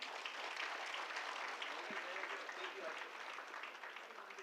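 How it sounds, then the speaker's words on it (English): Soft, continuous audience applause rises at a hospital golden jubilee and foundation stone ceremony as an award is presented, a fairly faint, even patter lasting several seconds. "Big round of applause to him."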